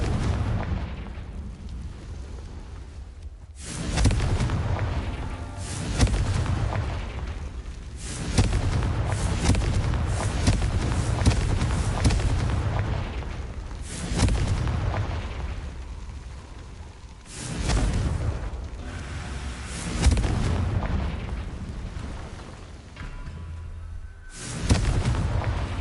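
Blasts of the Confringo explosive spell in Hogwarts Legacy go off repeatedly, loud booming explosions arriving in bursts every few seconds with rumbling tails and short quieter gaps between them.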